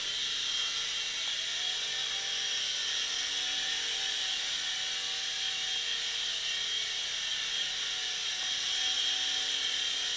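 A WLtoys S389 Tracer toy RC helicopter flies nearby with a steady high-pitched motor whine and rotor buzz, constant and unbroken throughout, with no talking.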